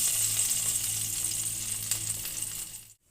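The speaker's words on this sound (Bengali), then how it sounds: "তেলের ওপরে এবারে রসুন কুচি দিয়ে দেবো।" Chopped garlic sizzles loudly in hot refined oil, a bright, steady hiss close by that holds for a few seconds and then stops abruptly.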